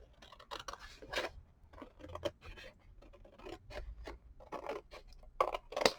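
Scissors snip through a piece of bead work, a string of small dry clicks and cuts at an uneven pace, close and soft.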